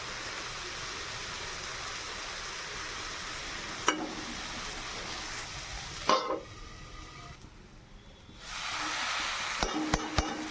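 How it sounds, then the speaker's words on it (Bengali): Thinly sliced potatoes and carrots fry in oil with whole spices and grated ginger, a steady close sizzle broken by occasional clinks and stirring scrapes, with a brief quieter lull before the hiss returns. "আলু আর গাজর ঝিরি ঝিরি করে কেটে নিয়েছি, দিয়ে দিলাম। সেটা ভেজে নিয়ে তারপরে চিড়েটা দেবো।"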